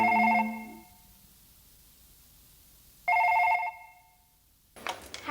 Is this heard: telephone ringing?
yes